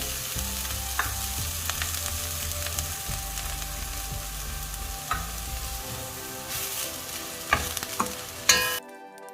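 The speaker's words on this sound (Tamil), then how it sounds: "மீடியமில் வச்சு வறுத்து எடுத்துக்கணும்." Semolina and grated carrot roast in a pan over medium heat, giving a constant dry sizzle with scraping stirs and occasional louder knocks of the spoon, near and without talk.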